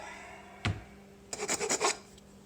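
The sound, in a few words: rasp filing wood while making a mallet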